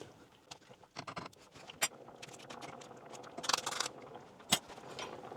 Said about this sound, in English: I'm going to get my potato masher and I'm going to squash some of them up a bit